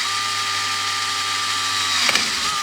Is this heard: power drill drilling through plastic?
yes